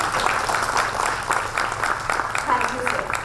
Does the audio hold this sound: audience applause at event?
yes